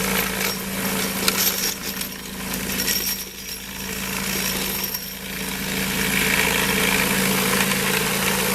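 A vibratory tumbler switched on to clean brass cartridge cases, a loud, steady rattling buzz with a constant low hum and metallic jingling of cases, running without pause.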